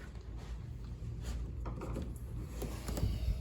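An interior closet door in a house swings shut with soft wooden knocks, slides and mechanical clicks, close by and moderately loud, without talk.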